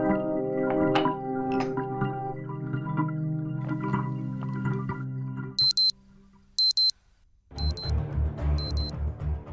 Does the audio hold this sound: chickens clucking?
no